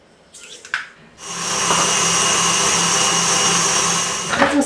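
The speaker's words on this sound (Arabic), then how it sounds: "نطرب فيهم مزيان بالطراب الكهربائي حتى يضاعف الحجم ديالهم" An electric hand mixer beats eggs with sugar. After a few brief handling knocks it switches on, then runs as a loud, steady, high motor whine close by, with no talk.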